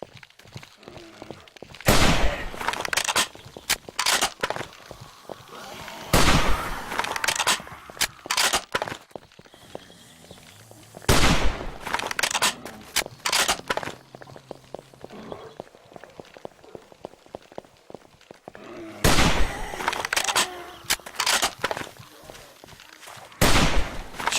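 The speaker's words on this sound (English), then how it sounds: "Time to break out the rifle again." Rifle fire in the video game 7 Days to Die, played on the hardcore A12.4 version, comes as loud single shots spaced several seconds apart, each followed by a brief ringing tail, with quieter footsteps and movement noises between them.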